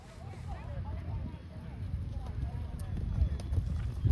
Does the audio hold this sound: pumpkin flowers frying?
no